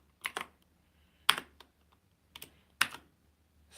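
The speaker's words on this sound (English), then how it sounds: "now I type the B set" Keystrokes on a computer keyboard come in short separate bursts of a few clicks each, close and crisp, with quiet pauses between them and no voice.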